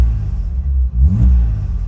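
A Ford Cortina XR6 engine revs through its aftermarket exhaust system, a close, loud, deep rumble that climbs in a short burst of revving before settling back.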